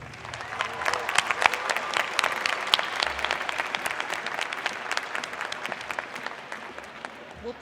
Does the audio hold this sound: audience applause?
yes